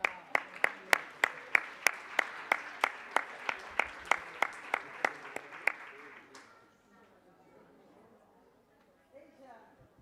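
Rhythmic applause from a symposium audience, steady claps in unison for several seconds before fading into quiet murmuring.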